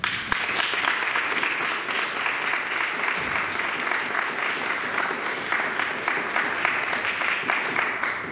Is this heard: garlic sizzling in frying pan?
no